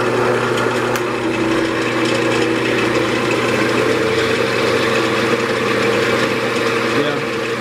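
A wood lathe spins a 12-inch maple vase at about 1100 RPM during sanding, giving a steady, loud, unbroken mechanical hum that stays even from start to finish.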